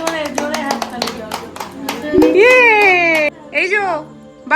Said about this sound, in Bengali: জোরে জোরে জোরে হাততালি দাও